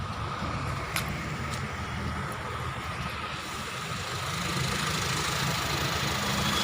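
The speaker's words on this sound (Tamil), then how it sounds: "திருப்பி வண்டி ஸ்டார்ட் பண்ணி செக் பண்ணுறேன்." A Honda motorcycle engine with a misfire idles close by, making a steady, rough low rumble that grows slightly louder toward the end, with a couple of faint clicks and no voices.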